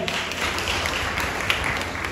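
Brief burst of steady applause from an audience at a community bride-groom matchmaking gathering, moderately loud and even.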